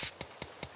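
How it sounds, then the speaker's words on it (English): Spray paint in the Teardown video game: one loud hissing burst, then three short faint spritzes at an even pace, close and clear with no talking. "This spray paint is actually kind of fun to use because we can just mark the spot where we want stuff to go down"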